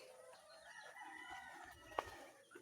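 A pet rooster crows once, faint and somewhat distant, its drawn-out harmonic call standing alone over quiet farmyard background.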